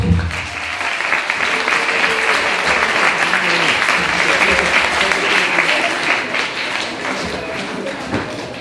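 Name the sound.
audience applause at a book fair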